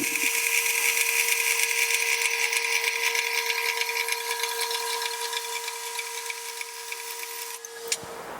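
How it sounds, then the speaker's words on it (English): Cutting a 3-inch piece of 4 inch by 1/2 inch steel flat plate for a shop crane's hydraulic cylinder mount, a loud steady whining machine drone with metallic ringing tones lasting about eight seconds, then stopping abruptly. "So we're just cutting a piece of 4" by 1/2" flat plate,"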